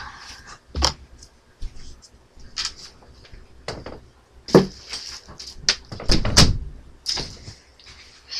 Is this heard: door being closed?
yes